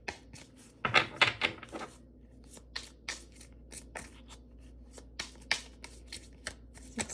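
Tarot cards being shuffled and drawn, with crisp riffling bursts followed by a run of sharp individual flicks and slaps, close up and with no speech.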